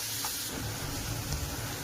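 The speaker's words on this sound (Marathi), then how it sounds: "चांगला परतून घेऊया कांदा." Onion frying with a little salt in a hot pan for upma, a steady close sizzling hiss throughout, fairly quiet and unbroken.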